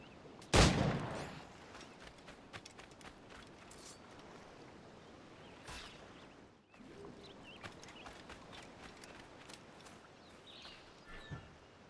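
Gunshots in Assassin's Creed 4: Black Flag, fired at an iguana: one loud close shot at the start, then a few fainter sharp cracks over a steady outdoor ambience.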